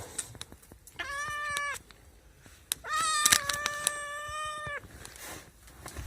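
A cat meows twice, the second call longer and more drawn out, close and fairly quiet, with small clicks and rustles around it.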